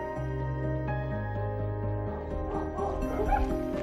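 Puppies at a puppy farm yip, bark and whimper close by in a continuous overlapping chorus, with no talk.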